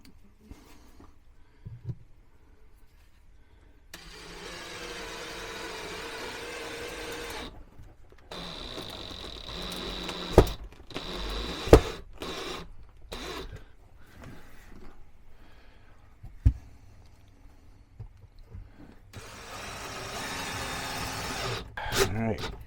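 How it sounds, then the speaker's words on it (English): Screws being driven into a pantry shelf rail inside an RV during a DIY shelving rebuild, a steady mechanical whir from a drill or driver with sharp clicks and knocks, several bursts separated by pauses, close by. "Just going to put in a couple screws."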